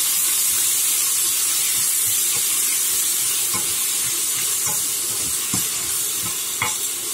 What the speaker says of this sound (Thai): ตั้งกระทะให้ร้อนนะคะอันนี้ผัดเป็นเจนะคะ